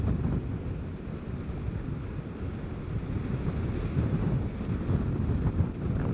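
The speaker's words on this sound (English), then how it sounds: "That wind is strong." Strong gusty wind buffets the microphone while riding a Vespa GTS 300 Super Sport scooter on a spring road, a loud continuous low rumble and roar that swells and eases, with no talk.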